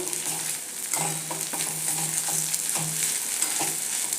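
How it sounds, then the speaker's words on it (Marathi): Okra frying in a pan with gram flour as coriander-cumin powder is stirred in, steady sizzle beneath a series of spatula scrapes and taps roughly every half second, close and clear without talk. "एक अर्धा चमचा आपल्याला धने जिरे पावडर घालायचे आहे ते मिक्स करूया"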